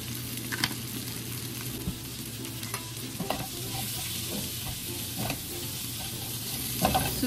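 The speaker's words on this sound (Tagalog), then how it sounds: "Susutay muna po natin yung ating asparagus." Asparagus sautéing in a pan, a continuous soft sizzle and fry with occasional stirring scrapes and light taps, steady and fairly quiet with no talking.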